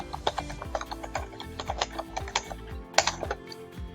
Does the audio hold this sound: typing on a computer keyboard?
yes